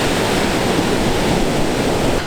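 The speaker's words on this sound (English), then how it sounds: "Beginner waves." Atlantic ocean waves breaking at Lawrencetown Beach, Nova Scotia, a loud, dense, steady rush of surf with wind noise, continuous throughout.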